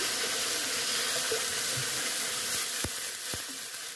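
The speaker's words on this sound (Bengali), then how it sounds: "এরপর সেই কড়াইয়ে 1 বাটি পরিমাণ জল নিয়ে নিচ্ছি।" A bowl of water poured into a hot karai (wok) after roasting nuts for coconut naru gives a steady, close, loud sizzling hiss with faint watery bubbling and a couple of brief clicks.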